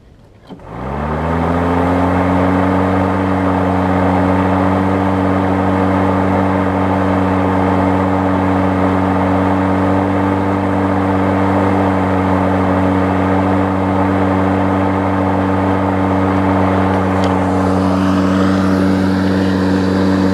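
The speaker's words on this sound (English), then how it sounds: "It is a nice quiet mower from what I have seen so far with it running" A Greenworks corded electric lawn mower starts up and runs steadily at close range, a loud, even motor hum with strong stable tones that holds unchanged for about twenty seconds with no talking.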